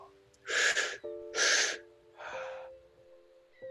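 Several deep, forceful breaths rush in and out during a guided breathing exercise, three loud airy bursts in a row, then a softer one, over a faint background tone.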